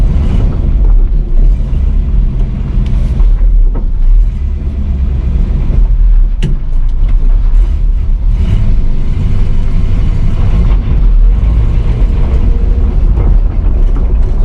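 A 1978 Pontiac Trans Am driving along a road, heard from inside as a loud, continuous low engine rumble with steady road noise and a sharp knock partway through.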